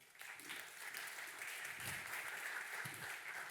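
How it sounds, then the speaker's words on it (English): A conference audience at a startup pitch summit applauds to welcome a company CEO onto the stage, a steady faint wash of clapping heard from a distance. "Let's warm him up with a big applause"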